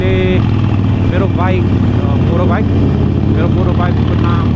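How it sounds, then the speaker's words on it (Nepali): Steady, loud low engine rumble from a Harley-Davidson Sportster Iron 883 motorcycle on a ride near Adelaide, droning continuously beneath someone talking throughout. "बाइकको नाम चाहिँ म चाहिँ स्पोस्टर आइरन 883 हो"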